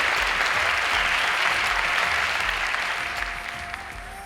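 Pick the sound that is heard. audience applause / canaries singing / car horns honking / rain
audience applause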